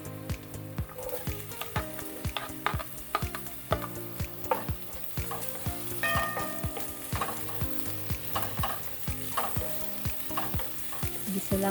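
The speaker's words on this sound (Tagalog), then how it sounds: "Gisa lang natin lahat yan." Onions being sautéed in a pan while cooking fried fish, giving a steady close sizzle with stirring scrapes and clinks throughout, no voices.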